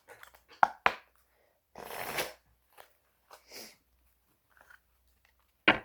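Oracle cards handled during a card reading: a few sharp, scattered flicks and soft shuffling rustles separated by quiet pauses, close and fairly faint.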